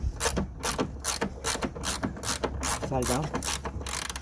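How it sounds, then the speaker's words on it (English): A ratchet removes the last tailgate bolt on a Honda Jazz, a steady run of close, sharp clicks from the pawl while a person speaks briefly over it. "just gonna remove this final bolt now"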